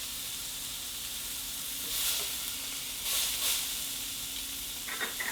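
Burger patty with seasoning sizzling and frying on a hot griddle, a steady close hiss with two brief louder bursts of spattering partway through and a few light scraping clicks near the end.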